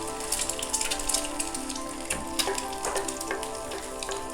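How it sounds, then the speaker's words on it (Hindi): An egg frying in a pan, turned once to cook both sides: a steady, fine crackling sizzle with scattered pops, moderately close and without talk. "आप इसको एक तरफ से फ्राई करके टर्न दे देंगे"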